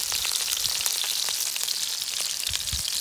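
Burgers sizzling over a campfire at a hunting camp, a steady close hiss and crackle of frying fat with faint pops, continuous and alone.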